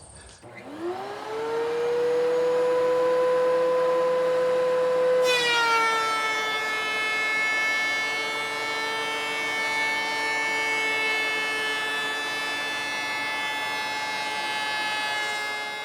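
A planer runs through recycled wood boards, its motor spinning up with a rising whine and settling into a loud, sustained tonal drone, shifting pitch partway as the board feeds through.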